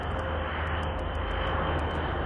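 Propeller aircraft with tilting propellers that turn through 90 degrees between vertical takeoff and forward flight, heard as a steady, loud engine drone with a constant low throb and no voices.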